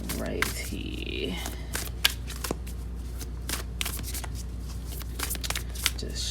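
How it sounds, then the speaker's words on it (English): Tarot cards being shuffled by hand, a string of crisp riffling flicks and soft slaps at an uneven rhythm, close and fairly quiet against a low steady hum. "Just shuffling here, see what comes out."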